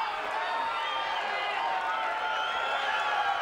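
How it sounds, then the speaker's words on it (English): A boxing arena crowd cheering after an explosive fourth round, a steady wash of cheers and applause filling the hall, with a commentator talking over it. "the crowd really coming to life after an explosive fourth round by Buster Mathis Jr."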